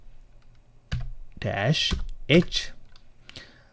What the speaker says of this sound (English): Now next one, I'm going to type free-h.